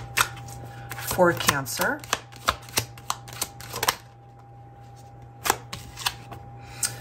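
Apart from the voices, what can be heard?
shuffling tarot cards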